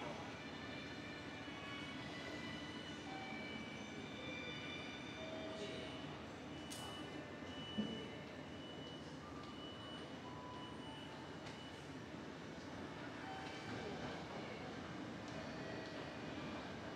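An Osaka Monorail train pulling into an elevated station, a steady mid-level rumble and whine of the approaching train with station ambience and a faint background announcement voice.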